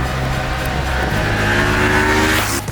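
A Moto Morini X-Cape 650X motorcycle engine while riding, a loud continuous drone that rises steadily in pitch as it accelerates, close and dominant with wind rush over it and no talking.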